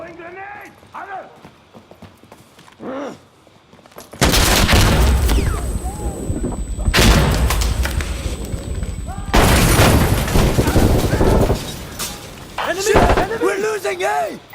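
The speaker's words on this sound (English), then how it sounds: "Throwing grenade!" Explosion bursts and gunfire from a grenade fight in Insurgency Sandstorm, loud and repeated in heavy blasts from about four seconds onward, after a quieter opening with voices.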